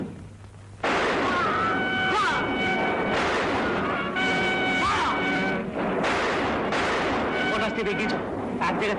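Rapid gunfire rings out in dense, echoing bursts after a brief quiet start, loud and sustained, with voices shouting between the shots, in a battle scene from the 1958 Bengali film Bagha Jatin.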